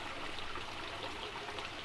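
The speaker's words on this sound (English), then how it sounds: "Beautiful little waterfall." A small backyard koi pond waterfall splashes and trickles in a steady, even rush of water, fairly close and heard alone without any voices.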